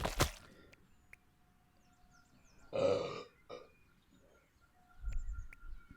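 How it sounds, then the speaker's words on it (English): A character in the video game Thank Goodness You're Here lets out a single loud, throaty burp, flanked by faint scattered game sounds, with no talking. "That one had more watermelon than coffee in it, that burp."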